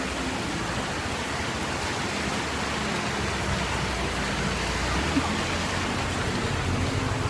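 Heavy rain pours down at the mouth of a residential lane near a house, a dense, unbroken roar of hissing water with no voices.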